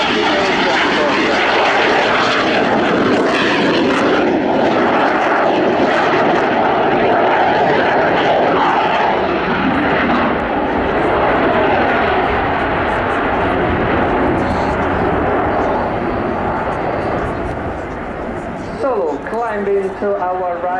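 Frecce Tricolori aerobatic jets fly a display, their engines a loud, sustained broadband roar that swells and fades slightly over the whole stretch while a voice talks over it.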